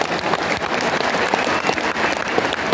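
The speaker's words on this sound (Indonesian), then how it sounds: "Tepuk tangan untuk semua yang memilih hadir di sini." A large crowd at Anies Baswedan's political rally at Jakarta International Stadium breaks into dense, sustained applause, loud and continuous throughout with a steady roar of many hands clapping at once.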